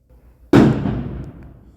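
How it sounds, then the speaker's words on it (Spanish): A firework bursts outside with one sudden loud bang followed by a decaying rumble and faint crackle. "Disculpen si por ahí se escuchan algunas explosiones, es que están lanzándose con todo por allá afuera."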